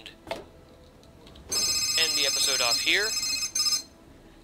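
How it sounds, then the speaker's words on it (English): Phone alarm rings out loud and close with a bright, repeating electronic trill, stopping and starting again, while someone talks over it. "That was my alarm telling me to end the episode"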